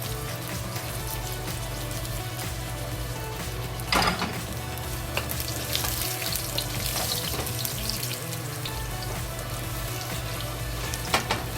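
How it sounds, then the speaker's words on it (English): Ginger fries in bubbling caramelized sugar with a continuous dense sizzle and crackle, close and steady, with occasional sharper spits and stirring scrapes. "fry the ginger, and also add garlic to it"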